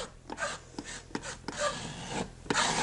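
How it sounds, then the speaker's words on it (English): A hand scraper works old paint lines off a wall in short, rough strokes, each rasping pass close and distinct, repeating in an uneven rhythm with no talking. "it takes a lot of scraping here to get that cleaned up"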